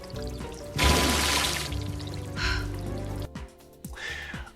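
Water pours onto a dress in a short burst of loud splashing, then lighter trickles and a second smaller gush, with low tones underneath.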